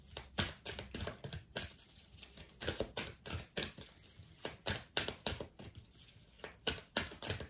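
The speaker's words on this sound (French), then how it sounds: "quand je bats les cartes comme ça" Playing cards being shuffled by hand for a tarot-style reading, a rapid series of crisp riffling taps and flicks in uneven bursts, close and fairly quiet.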